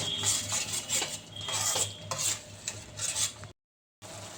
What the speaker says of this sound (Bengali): ভাজা ভাজা করছি